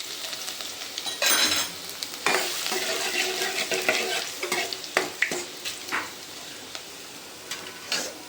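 Onion and garlic stir-fry in a hot pan for a desi-style silver pomfret dish, a loud steady sizzle broken by repeated scraping and clacking strokes of a spatula, close up with no talk.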